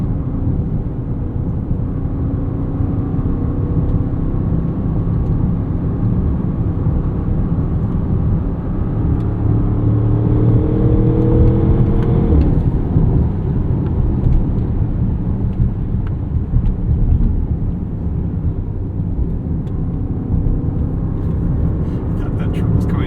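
Twin-turbo V8 of a 2026 Bentley Bentayga Speed SUV while driving on the road, a steady low engine drone with rising and falling pitch, close and continuous, under a loud wash of road and wind noise.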